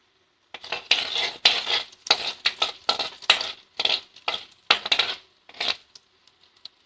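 Mustard seeds, chana dal and urad dal stirred in a hot pan, with repeated bursts of scraping and crackling rattles, loud and close, in an irregular rhythm that dies off near the end.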